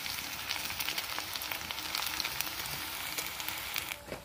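Leftover-rice chips frying in oil over low to medium heat, a steady bubbling sizzle with soft crackles throughout and no voices.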